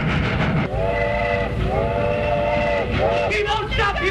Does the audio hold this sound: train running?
yes